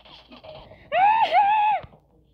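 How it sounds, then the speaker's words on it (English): During PUBG gameplay a sharp, high scream rises abruptly and holds for about a second before cutting off, loud against quiet surroundings after some faint earlier sounds. "What was that scream?"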